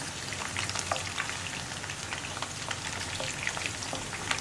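Prawns frying in a pan for restaurant-style chilli prawns, a steady close crackling sizzle with scattered sharp pops throughout, no voices.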